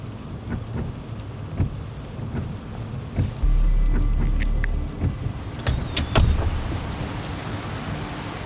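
Rain falls at night around a crashed car with broken headlights, a steady hiss of drops spattering nearby with scattered sharper ticks and a few low thumps, fairly quiet and continuous.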